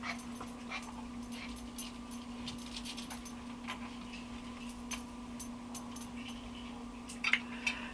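Small dogs whimper and let out soft yips, faint and intermittent over a steady electrical hum, with a brief louder cluster near the end and no talk.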